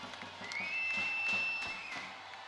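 Volleyball fans in an arena at a EuroVolley final cheer and clap, a faint, distant crowd roar with a rhythmic clapping pulse and a shrill whistle-like tone.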